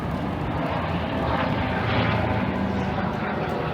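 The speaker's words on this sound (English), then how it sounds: "Got the helicopter up there." A dense, steady engine roar with rotor-like churning fills the air, a helicopter droning overhead at moderate distance without letup.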